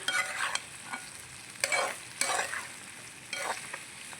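Half a kilo of chicken curry is stirred in a frying pan, with bursts of scraping spoon strokes over a continuous soft sizzle and no voices.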